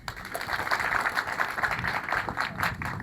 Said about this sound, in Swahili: Tumpigie makofi kwa hilo.